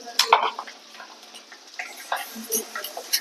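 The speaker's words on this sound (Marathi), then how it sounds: "इथे माझा मसाला जो आहे तो फ्राय होतोय" Masala with yogurt frying in a pan for matar paneer, a soft sizzle with occasional stirring and utensil clinks close by, someone talking over it at times.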